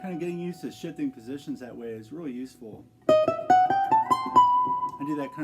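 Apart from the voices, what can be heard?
No everyday noise stands out behind the speech.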